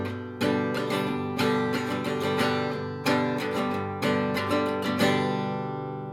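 An electric guitar strums a fast 12 bar blues rhythm in a steady shuffling pattern of repeated chord hits, bright and close with no talking.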